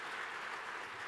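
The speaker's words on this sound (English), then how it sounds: "Let's give Tim a round of applause" An audience at a talk with sculptor Timothy Schmalz claps in a dense, even wash of applause that holds steady throughout.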